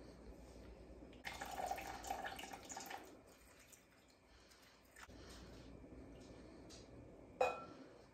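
Warm water poured from a vessel into a bowl for sourdough dough, a soft short splashing pour in quiet surroundings, followed by a few faint drips and a brief clink.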